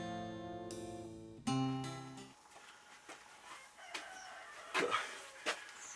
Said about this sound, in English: You can hear the cockerel.